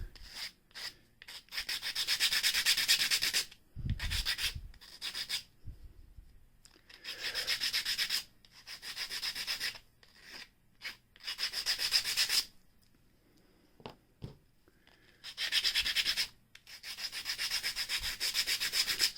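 Repeated bursts of hand sanding on a small wooden weapons crate in 1/12 scale, each rough rasping stroke sequence lasting a few seconds and separated by short pauses, close and fairly quiet with no talking.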